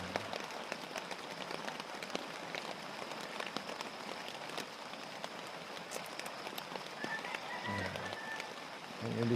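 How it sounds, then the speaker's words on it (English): Steady rain patters on a tent roof on a farm, dense and close, with scattered sharper drops and a soft low rustle near the end. "Can you hear it? The sound of the rain."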